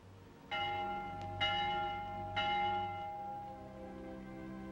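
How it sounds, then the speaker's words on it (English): A church vespers bell tolls three times, each strike ringing out and humming into a long resonant decay, clear and unaccompanied. "The Vespers bell."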